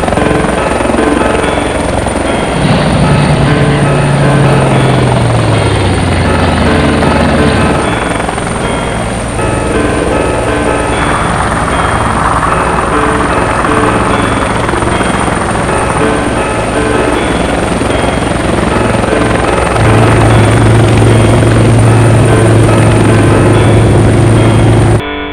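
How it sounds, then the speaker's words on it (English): A toy robot helicopter whirs continuously at close range, its motor holding a steady drone whose pitch slides down and later climbs again. "Fast action, evil robot helicopter."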